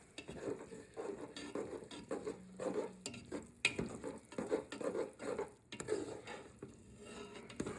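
Blended okra soup with added broth is stirred in a pot, a spoon scraping and clinking against the sides in uneven strokes over a soft simmering sizzle, close and fairly quiet.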